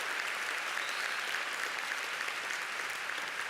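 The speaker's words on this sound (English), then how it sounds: "I appreciate the applause." Audience applause at the AfroTech Conference 2025, a broad, even wash of many hands clapping that holds steady at moderate loudness throughout, with no talk over it.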